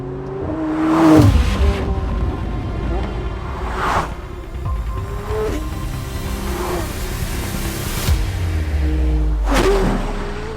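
A McLaren 750S Spider sports car drives on a public road, its engine note climbing and dropping through several gear changes. Loud and close, the revs surge and then fall away with a rushing whoosh.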